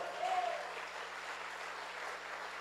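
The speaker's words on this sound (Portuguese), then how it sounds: "Dá mais um aplauso bem forte ao Senhor." A church congregation applauds steadily, a continuous wash of clapping from many hands that neither swells nor fades.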